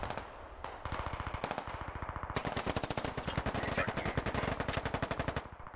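Rapid, evenly spaced bursts of machine gun fire in a tactical shooter video game, a close, relentless rattling stream of shots that thickens midway and runs without talk.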